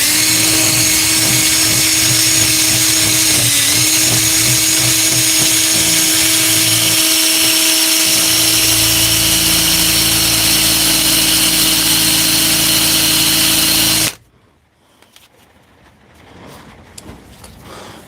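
A power drill reaming a bolt held in a vise whines loudly and steadily for a long stretch, its pitch dipping briefly under load, then cuts out abruptly into quiet shop noise.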